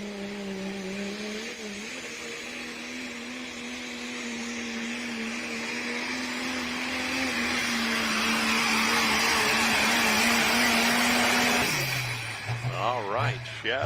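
A pulling truck's engine roars at a truck pull run, a loud sustained drone that climbs steadily in pitch and intensity before cutting off abruptly, with talking over it at the end.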